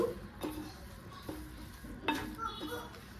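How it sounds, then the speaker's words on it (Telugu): Grated carrot and sugar stirred in a pan for carrot halwa, a soft sizzle under several distinct scrapes and clinks of a spoon against the pan at close range. "పంచదార వేసి అంతా కలుపుతూ సిమ్లో పెట్టుకోండి"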